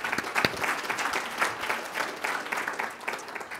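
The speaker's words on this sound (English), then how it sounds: "let's give him a round of applause for being here." Audience at a tech diversity and inclusion panel applauds a panelist, a lively burst of clapping that continues throughout at moderate loudness.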